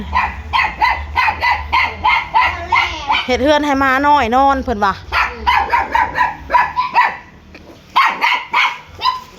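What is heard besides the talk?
dog barking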